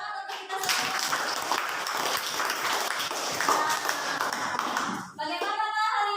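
A classroom of pupils clapping together in dense, continuous applause, loud and close. Voices cheer near the end.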